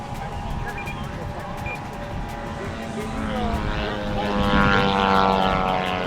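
A radio-controlled model airplane with a buzzing propeller motor flies slowly at a large RC event, its drone steady at first and then swelling louder and closer, while people talk nearby.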